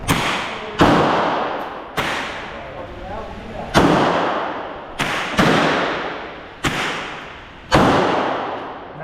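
Gunshots at a Thailand shooting range, seven loud, sharp reports spaced irregularly about a second apart, each ringing out with a long decaying echo off the range.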